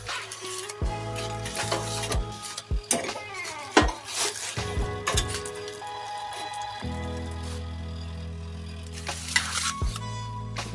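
Pampano fish sizzles and fries in a hot pan, with clattering as pieces are placed and moved, then a steady loud frying hiss that settles in for the rest.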